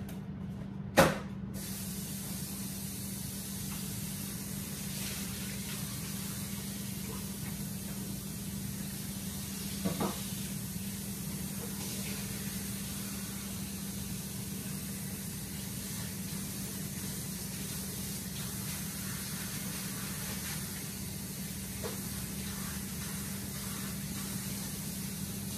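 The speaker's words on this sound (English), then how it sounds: "I'm gonna rinse this pan out" Steady water spraying from a kitchen faucet while a pan is rinsed out after cooking pork belly chicharrones, a continuous even hiss lasting throughout with a couple of brief clanks.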